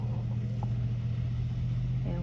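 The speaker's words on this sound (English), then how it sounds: "They are definitely spinning." Vehicle tires spin in snow during a Kentucky snowstorm, the engine holding a steady, close, low drone throughout with a slight rise near the end.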